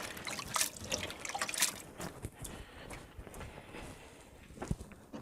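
Wet squelching and trickling as a mushy mass of corn and water is squeezed by hand, with irregular splashes and drips close up.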